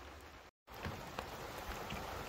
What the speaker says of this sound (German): als wenn jetzt nur bloß Regen runterkommt